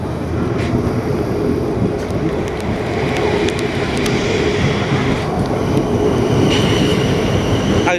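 A ten-carriage South Western Railway Class 444 train, units 444015 and 444025, rumbles through Havant station with a loud, continuous wheel-and-rail roar and faint squeals throughout.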